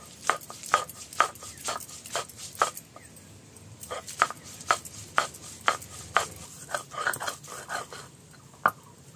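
Poppy seeds and spices being ground into paste on a stone slab with a grinding stone, a series of sharp rhythmic scraping and knocking strokes repeating steadily at close range, with no talk.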